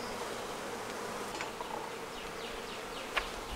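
Honeybees buzz steadily around a Flow Hive just after a new queen is installed, a soft continuous drone with individual bees whizzing past close by.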